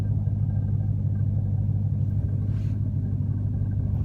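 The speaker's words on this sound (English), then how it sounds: "All I can hear is noise in the transmission just sitting here." A steady low rumble from an idling Hellcat with transmission noise, constant and droning with a faint mechanical hum running underneath, no voices.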